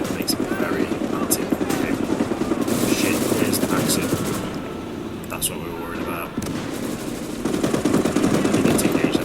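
A Maxim machine gun fires in the Call to Arms Gates of Hell Ostfront game, rapid rattling bursts mixed with other gunfire and an engine-like roar of battle, fairly loud and continuous.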